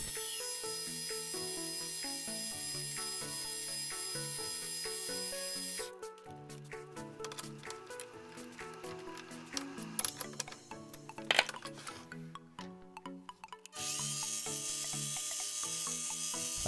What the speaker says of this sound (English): As always, the project starts off with a quick facing cut.